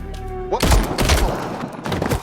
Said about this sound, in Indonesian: tiba-tiba saja Wes mengeluarkan senjatanya dan menembak tepat ke arah Lazarus